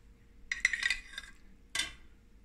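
A small spoon clinks against a dish while trifle is served in a home kitchen, giving a few light metallic taps in quick succession and then one more sharp clink after a short pause, close and fairly quiet.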